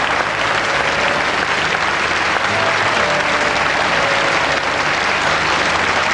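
Dense, steady applause from a large audience at the Miss France 1991 pageant greets Miss Bretagne, filling the hall for the whole stretch at a loud, even level with no break.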